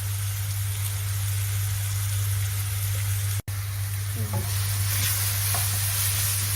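Masala paste with turmeric fries in a hot pan, a steady loud sizzle over a constant low hum, with a brief dropout midway and a few stirring scrapes afterward.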